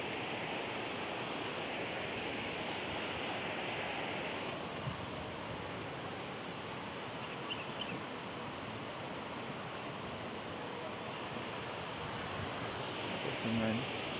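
River water pouring over a dam weir, a steady broadband rush that stays constant and moderately distant throughout, with no talk over it.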